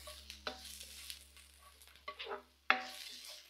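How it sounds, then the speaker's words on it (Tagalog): Garlic and onion sauté in a little oil in a pan, giving a soft, low sizzle with faint stirring scrapes and one sharp pop near the end. "Medyo ginigisa-gisa lang natin yung bawang na yan."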